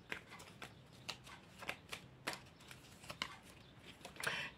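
Oracle cards shuffled and drawn during a card reading, giving a series of crisp, quiet riffling snaps and flicks at an irregular rhythm, close up with no voices.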